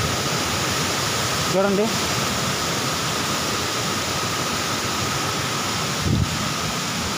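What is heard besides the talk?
Kaigal waterfall in dense forest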